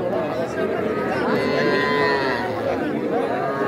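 Cattle and young calves lowing amid a busy crowd at a livestock market, with moos rising over steady background chatter, close and continuous.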